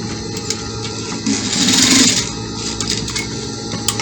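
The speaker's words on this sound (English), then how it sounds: "So we are stitching it like that so that it will not start popping out from the neck." A sewing machine stitches fabric for a traditional African men's top, its needle chattering steadily up close with a louder, faster run in the middle.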